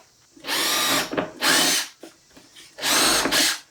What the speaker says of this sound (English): We're going to drill from the back side, and then we'll come back through from the front side